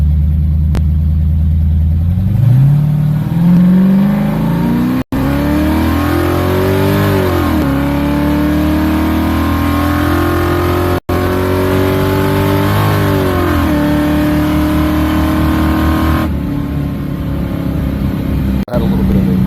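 A Ford LTD Foxbody accelerates hard on a road test pass, its engine loud and close, climbing in pitch through the gears with brief breaks at each shift, including a slight transmission flare on the third-gear change.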